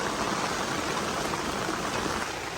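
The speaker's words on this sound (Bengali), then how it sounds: "অনেক বৃষ্টি হচ্ছে" A downpour drumming on the plastic of a poly tunnel, a loud, unbroken wash of rain noise heard from inside with no letup.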